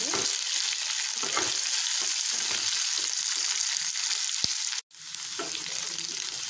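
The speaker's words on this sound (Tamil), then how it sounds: "நல்லா ஒரு 2 to 3 minutes வந்து ஹை ஃப்ளேமில் வச்சு இந்த மாதிரி மிக்ஸ் பண்ணிக்கோங்க." Capsicum for dry butter chicken is stir-fried on high flame, a loud, continuous close sizzle with light stirring scrapes and a brief drop in sound near the end.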